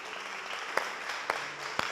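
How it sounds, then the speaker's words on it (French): Applause from an audience welcoming a jury member at an evening school competition, steady and fairly quiet, with a few sharper claps standing out near the middle and end. "On applaudit pour le recevoir"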